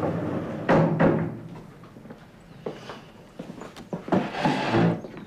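An indoor door is pushed shut with a couple of close, solid thumps early on, followed by softer knocks and shuffling movement, with no one speaking.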